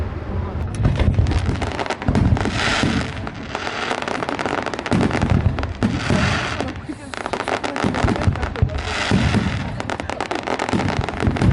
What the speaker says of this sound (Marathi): फटाक्यांच्या आतषबाजीमुळे वातावरण मनप्रसन्न होते